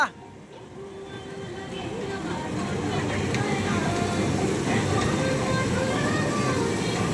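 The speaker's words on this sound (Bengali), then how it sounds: "আর ট্রেন ঘুরিয়ে আসবে অনেক দূরের থেকে।" A train rumbles past, its low mechanical roar building from quiet to a sustained, fairly loud drone with faint rattling, while a voice may be present in the background.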